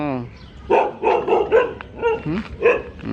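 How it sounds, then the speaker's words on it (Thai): Dogs barking on a walk outside, a run of several loud close barks in quick succession with a person speaking over them. "สองด้านเลยเห่าหนูเนี่ย"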